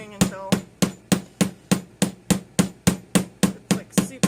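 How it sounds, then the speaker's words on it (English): A chasing hammer flattens a sterling silver jump ring, striking about fourteen sharp, ringing metallic blows at a steady, even pace, each close and loud with a short decay. "got the jump ring here, and you're just going to hammer"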